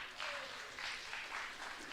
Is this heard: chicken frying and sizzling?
no